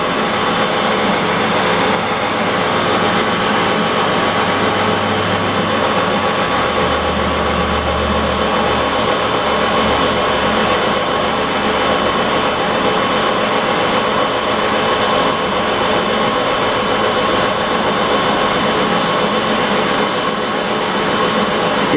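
A lathe turning 1018 steel with a high-speed steel tool at 750 RPM, cutting oil applied: a loud, steady, continuous mechanical hum and whir that runs unbroken throughout, with no talking.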